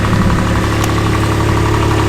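A UTV engine idles nearby, a loud, steady low rumble with a faint rhythmic knock throughout, with no break or change in pace.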